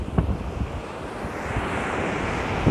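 Sea waves roaring where the Thames meets the open sea, a loud continuous rush of surf heavy with wind buffeting the microphone, with a brief knock near the start and again at the end.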